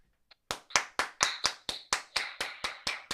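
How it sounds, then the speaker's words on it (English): Steady rhythmic clapping on a morning show, about eleven sharp, evenly spaced claps at a quick pace, close and clear, preceded by a brief faint tap. "Let's clap for that."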